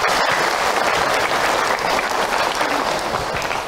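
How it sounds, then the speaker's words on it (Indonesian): Dense, loud applause from a gathered audience at an Islamic religious talk, continuous clapping throughout with crowd noise mixed in. "Tepuk tangan buat bunda semua yang ada."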